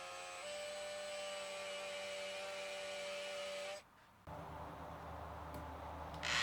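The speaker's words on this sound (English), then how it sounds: "I'm going to start by drilling a couple of holes" A power drill boring holes into a wooden guitar neck for the truss rod channel, a steady whirring drone that cuts off briefly, then resumes with a rougher cutting tone.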